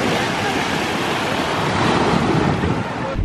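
Surf washing onto a seaside beach, a loud, continuous roar of breaking waves close by, with some wind buffeting the microphone and no voices.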